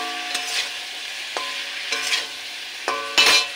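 Cauliflower frying in a pan, a continuous sizzle of hot oil with several sharp clinks and scrapes of stirring, ending in a louder scrape.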